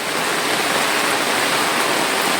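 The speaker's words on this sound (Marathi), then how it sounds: "पाऊस पडतोय खूप जोरात पाऊस पडतोय" Heavy monsoon rain pours down steadily over village fields, a dense, loud, unbroken roar of water that fills the whole stretch with no voices.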